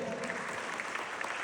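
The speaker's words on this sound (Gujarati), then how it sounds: "તો એકવાર અહીંયા મંચસ્થ મહાનુભાવો માટે તાળીઓ પાડી દો" An audience claps steadily and fairly quietly for dignitaries on the stage at a Gujarati community prize-giving and honours ceremony, a continuous patter of many hands at a distance.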